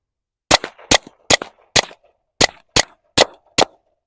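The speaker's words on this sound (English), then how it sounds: "the gunfire in the background is much louder than what this is going to be" Gunfire at a shooting range during a Walther PPK/S .22 LR session: eight sharp, loud shots in an irregular rhythm, each with a short echoing tail and no talking.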